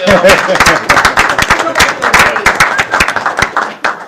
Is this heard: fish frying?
no